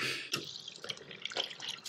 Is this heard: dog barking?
no